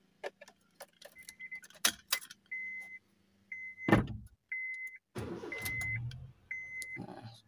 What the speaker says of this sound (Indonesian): Kita nyalain dulu mobilnya.